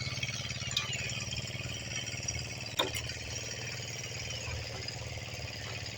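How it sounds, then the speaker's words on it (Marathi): A tractor's diesel engine, started for paddy field preparation in Talavade village, chugs steadily at a low, rhythmic idle nearby, with a couple of sharp knocks and clanks over the running motor. "पहिली सुरुवातीत आम्ही ट्रॅक्टर चालू करून घेतो आहे"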